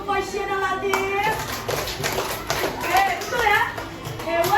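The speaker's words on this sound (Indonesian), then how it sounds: "Tepuk tangan untuk Fasya dan Latif." Children clap together in a primary school classroom, in a moderately loud, steady patter, while a teacher and kids talk over the clapping throughout.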